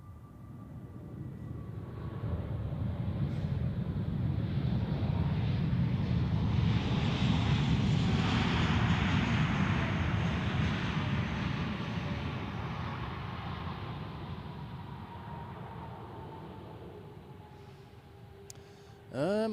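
Icelandair Boeing 737 MAX landing at Zurich Airport, its jet engines swelling from a distant whine to a loud, broad rumble as it passes close by, then fading away with wind buffeting the microphone.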